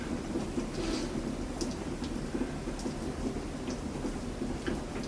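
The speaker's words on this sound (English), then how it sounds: "It was like really raining outside, so I don't know if you guys can hear that, but it's like terrible out." Heavy rain falling outside during a bad storm, a constant dense hiss of drops heard faintly from indoors with no talking.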